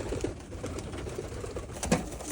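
Racing pigeons at a breeding loft coo softly among a steady background of rustling and shuffling, with low murmuring calls scattered throughout and one slightly louder coo near the end.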